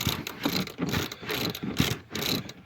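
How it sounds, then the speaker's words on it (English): A double drive ratchet works a fastener on a 2001 Crown Victoria police car, giving rhythmic bursts of close, clicking pawl strokes that repeat every half second or so. "it'd be a lot quicker if you've got a double drive ratchet"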